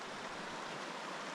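Creek water rushes steadily in a broad, even wash of flowing noise, faint and continuous with no other sounds.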